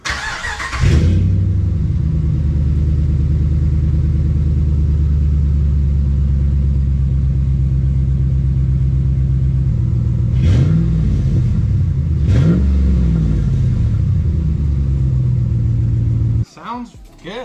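Car exhaust with the resonator removed and the muffler still in place, starting up and settling into a deep steady idle, then two short sharp revs rising and falling, loud and close.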